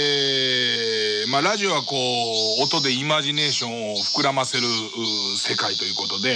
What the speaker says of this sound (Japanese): このセミの鳴き声を聞きながら